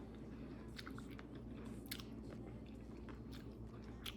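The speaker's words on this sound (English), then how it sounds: "I've been chewing for a long time, and I'm getting sick of it" Close chewing of cucumber with mustard, wet crunchy bites and squishy mastication repeating irregularly over a steady low background hum.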